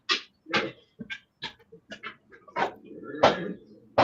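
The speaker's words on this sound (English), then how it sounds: "Do you have a filter for dog noise?" A dog whimpers and yips in a run of short, high, nasal bursts, several separate cries close by, some stretching into whiny moans, with faint voices in the background.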